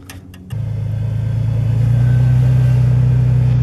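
A pickup truck with its bumper removed starts and revs, a loud, close, steady engine rumble that rises and holds, with no one talking.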